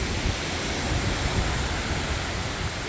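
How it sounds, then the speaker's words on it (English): Wind-driven rain from Tropical Storm Debby in northern Vermont, a dense, steady hiss of pelting water mixed with wind, close and constant throughout, with no talk. "Now I'm getting pelted with water."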